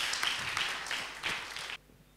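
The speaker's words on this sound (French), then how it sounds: "Applaudissez-moi hein, quand même" An audience at a startup competition final in Morocco claps for a couple of seconds, a moderate wash of applause that stops abruptly, leaving near silence.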